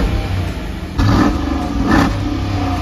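A 2022 Dodge Durango R/T's 5.7-liter V8 revs twice in quick succession, each blip a loud, close surge that drops back to a rumbling idle.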